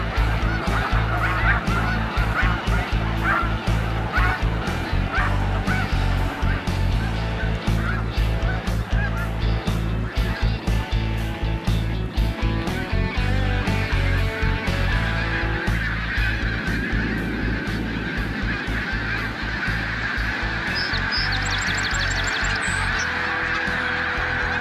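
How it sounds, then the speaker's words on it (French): A large flock of snow geese at Montmagny honks without letup, a thick, loud wall of overlapping calls with sharper individual honks standing out near and far. "Où il y a les oies, finalement. Où les oies sont."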